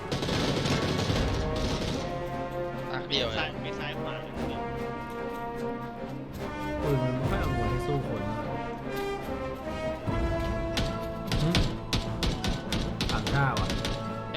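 Rapid gunfire bursts from the battle royale game PUBG crackle in repeated volleys across the stretch, layered under frequent excited talking and game sounds.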